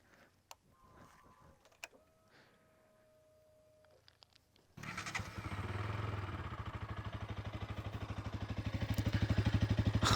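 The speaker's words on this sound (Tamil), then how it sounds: "இந்த 200K வந்து பார்த்திங்கன்னா இந்த ஒரு எக்ஸாஸ்ட் நோட்டு தான் ஒரு அடையாளமே" A Bajaj Pulsar NS 200 BS6 motorcycle with an underbelly exhaust gives a few faint clicks, then starts up and settles into a close, steady idle with a throbbing, even beat that swells slightly toward the end.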